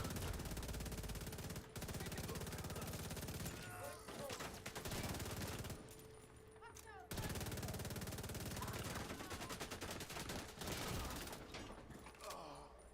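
Gunfire in the video game The Division 2: loud, dense, sustained bursts of automatic fire that roll on almost without pause, broken by a few brief dips.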